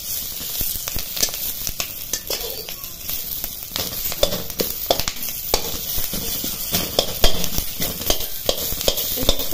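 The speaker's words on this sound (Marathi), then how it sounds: "पण 1-2 मिनिटं त्याला परतून द्यायचं." Onion sautéing in a pan while making Shingori amti, with steady loud sizzling and frying crackle plus intermittent stirring scrapes throughout, no talk.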